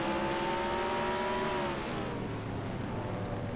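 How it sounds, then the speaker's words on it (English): Onboard stock car engine at Martinsville in a racing video game, a steady loud drone holding one pitch and then sliding slightly lower as the car lifts, with no voices over it. "On board, Zach Rogers in the number 3 car"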